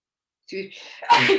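A single sharp sneeze, close and loud, with a brief breathy intake just before it.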